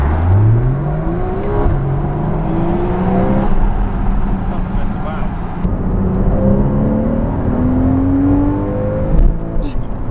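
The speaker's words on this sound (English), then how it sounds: "it has that Porsche like flat six" Flat-six engine with a Porsche-like character revs repeatedly, its pitch sweeping up and dropping back in several rising pulls, loud and close as from inside the car, while a voice speaks intermittently over it.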